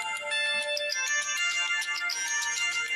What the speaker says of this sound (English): Oh, now the phone rang.